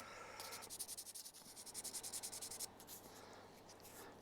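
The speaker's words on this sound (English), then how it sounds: "I'm going to just get a little bit of sandpaper and just get this paint off of this spindle." Sandpaper rubbed back and forth to strip paint from a spindle on a Tamiya 1/35 scale Panther model tank, a quiet close scratchy rasp in quick rhythmic strokes, about twenty in a row.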